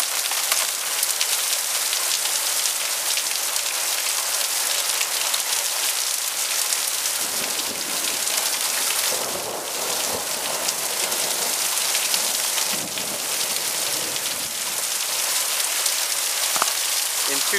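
A sudden summer storm in Alberta brings heavy rain pattering densely on surfaces, a close, steady hiss with scattered louder drips, with no voices.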